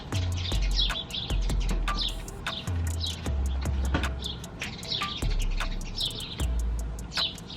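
Birds chirp and tweet busily outdoors, with many overlapping calls repeating over a low, intermittent rumble, fairly loud and close.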